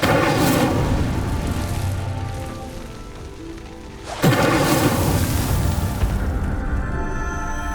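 The Incendio fire spell sets a pyre burning in Hogwarts Legacy, giving a loud, steady crackling roar of flames with a deep whoosh and boom near the middle as the fire surges, then continuing to roar.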